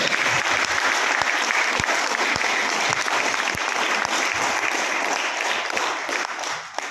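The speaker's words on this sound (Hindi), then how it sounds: "एक बार जोरदार ताली बेहतर मैच के लिए" Sustained applause from an audience at a business seminar, dense clapping throughout with a few sharper individual claps standing out, tapering slightly at the end.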